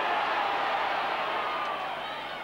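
At a Leeds versus Workington rugby league match, a large stadium crowd roars in protest over a disallowed try, a loud, sustained wash of voices that slowly fades.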